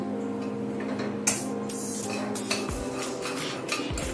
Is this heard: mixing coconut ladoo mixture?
yes